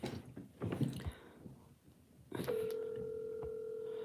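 Telephone being dialed to make a call, a quiet handset sound that gives way to a steady tone holding for well over a second, heard at close range after some brief handling noises.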